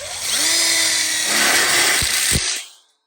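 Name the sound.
driving screws with a power drill into welded split bar kit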